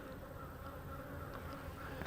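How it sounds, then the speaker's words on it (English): Honey bees buzz at a garden beehive entrance, a close, continuous droning hum with a few brief louder passes as individual bees come and go, with no voices. "there's bees in their garden entrance, and you see a bee coming and going every now and then"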